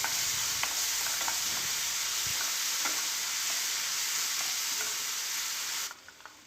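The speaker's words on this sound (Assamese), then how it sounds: "এয়া চচৰ মিশ্ৰণখিনি দিও মই অকণমান ভাজি ল'ম" A sauce mixture for dragon chicken fries in a pan with a loud, steady sizzle and occasional stirring scrapes, stopping abruptly near the end.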